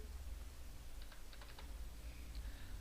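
Brief light typing on a computer keyboard, a handful of soft close key taps in two short bursts over a low hum.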